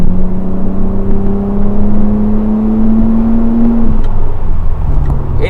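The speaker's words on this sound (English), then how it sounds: "the engine makes such a nice noise from its inline sixness." Lexus IS 200 inline-six engine accelerating hard at full throttle with extra power mode on, a steady rising drone climbing in pitch for about four seconds before easing off, close and loud inside the car.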